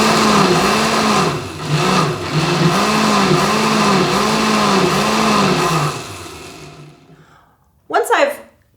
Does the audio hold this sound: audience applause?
no